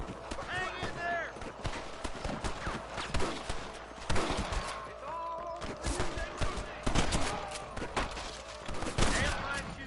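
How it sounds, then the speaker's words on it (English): Gunfire crackles through a shootout in the 2010 game Red Dead Redemption, with rapid, overlapping shots and galloping hooves close by, under shouting voices. "Damn fine shooting, boys."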